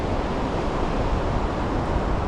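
Steady broadband wash of surf breaking on Pwll Du Beach, Gower, a continuous roar of waves close in along the shore with wind noise mixed through and no voices.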